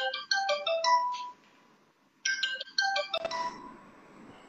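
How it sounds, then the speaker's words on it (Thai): Incoming LINE app call ringtone on a phone, a bright melodic chime phrase heard twice with a short gap between, close and clear and followed by a faint rustle. "โทรศัพท์ทางไลน์เข้ามาต้องขออภัยจริงๆนะครับ"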